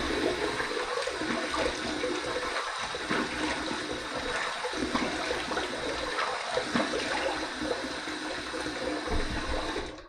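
Water runs steadily from a tap to rinse a twin-handle razor, a continuous close rush of flow with small splashy shifts in level.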